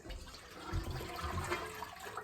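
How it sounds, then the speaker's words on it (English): Goat milk poured lightly into a container for homemade yogurt, giving a soft, steady liquid rush with low gurgles, quiet and continuous for a couple of seconds. "you want to go ahead and just pour it in lightly"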